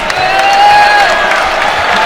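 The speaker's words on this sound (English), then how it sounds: "Oscar checks out of the game to a nice round of applause" Crowd applause in a college basketball arena as a player checks out late in a West Virginia home game against Austin Peay, a steady broad wash of clapping with faint whistles, sustained and fairly loud throughout.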